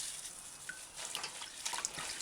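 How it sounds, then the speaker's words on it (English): Fresh herbs are dipped in and out of a basin of water by hand, giving soft sloshing and light splashing with small drips, steady and close, with no voices. "Dip it in and out of the water."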